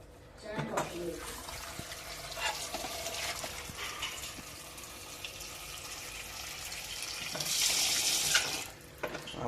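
A household water tap runs steadily, filling a vessel with a soft continuous rush, while faint voices talk in the background.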